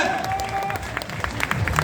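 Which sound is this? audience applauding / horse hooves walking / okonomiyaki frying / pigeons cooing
audience applauding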